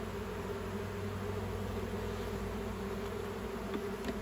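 Bees buzzing at an opened hive frame, a steady dense drone of many insects close by, continuous and even throughout.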